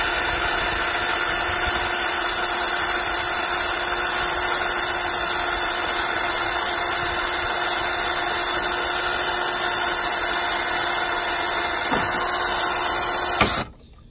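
A power drill runs continuously for a wooden garden gate build, a steady high whine with a constant motor drone lasting nearly the whole stretch, then cutting off abruptly near the end.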